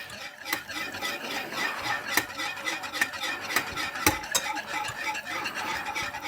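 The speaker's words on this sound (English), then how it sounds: "Whisking it constantly is very important because your flour doesn't settle, which means it won't burn on the bottom of the pan" Whisk steadily scraping through a white flour-based gravy in a pan on the stove, a continuous close stirring rasp with sharper clinks against the pan at irregular moments and a faint sizzle beneath.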